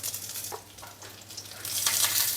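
Mustard seeds, urad dal, dried red chilli and curry leaves sizzling in a small spoonful of hot oil, a close crackling fry with brief pops that grows louder toward the end.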